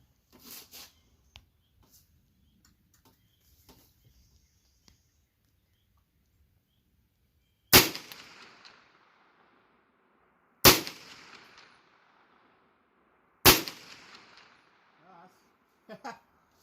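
An Auto Ordnance M1 Carbine fires three sharp .30 Carbine shots at targets, spaced about three seconds apart. Each crack is loud and close, with a short echo trailing off into a quiet outdoor setting. Faint speech and small noises come before the shots.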